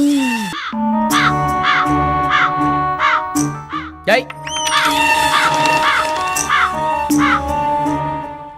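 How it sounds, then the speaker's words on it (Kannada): A crow caws loudly and repeatedly in a steady series of harsh calls, close and prominent over a busy, layered background. "ಕಾಗೆಯನ್ನು ಸ್ವರ್ಣ ಮುದ್ರೆಯಿಂದ ಓಡಿಸುತ್ತಿದ್ದಾನೆ"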